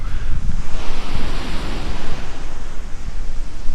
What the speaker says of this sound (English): थोड़ा high waves ही लग रही हैं, हाई टाइड